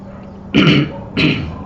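A preacher clears his throat twice, loud and close, one after the other with a brief pause between, over a quiet background; the throat irritation comes from a sweetener.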